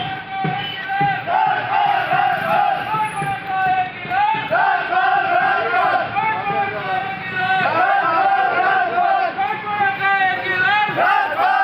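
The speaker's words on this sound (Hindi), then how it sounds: "्यवर्धन राठौड़ मिठाई लेकर उनके पास पहुंचे तो किसी कार्यकर्ता ने उनकी मिठाई स्वीकार नहीं की और नारे लगाते रहे।" Political protesters in Rajasthan waving black flags shout slogans in a loud crowd, their rhythmic, repeated chanting steady and dense with overlapping voices throughout.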